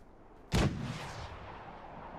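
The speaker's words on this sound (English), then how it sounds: "Oh, shots east." A single loud gunshot cracks out in the PUBG battle royale, followed by a long rolling echo that fades slowly over the next second and a half against low background noise.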